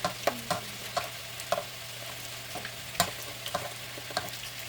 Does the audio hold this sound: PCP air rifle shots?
no